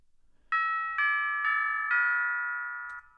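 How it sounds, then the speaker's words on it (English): Four struck tubular bell tones ring out in a descending sequence, each clear and sustained, the last one fading slowly into silence. "I tried to emulate wedding bells. So that's why you have these tubular bells right here."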